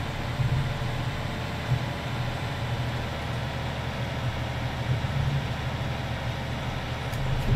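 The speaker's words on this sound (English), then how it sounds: "Hear the engine revs climbing" Tractor engine in Farming Simulator 19 running at a steady, loud low drone that holds throughout without pauses, with no one talking.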